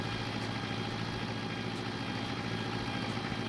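The engine of an Ursus tractor ploughing a field runs as a steady, faint, low rumble, continuous and even, with no voices.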